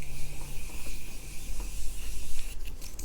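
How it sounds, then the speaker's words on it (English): Morphe Continuous Setting Spray is misted onto a face, giving a few quick hissing spritzes near the end over a steady background hiss. "I'm going to set my face with the Morphe Continuous Setting Spray"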